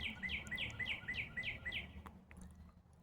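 Northern cardinal singing in the evening: a run of about eight clear, evenly spaced downslurred whistles repeated rapidly, then a few softer notes, moderately close over a low background hum.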